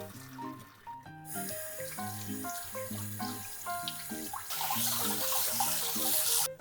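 Running tap water rinses boba pearls in a kitchen, a steady splashing stream under soft background music that swells louder toward the end.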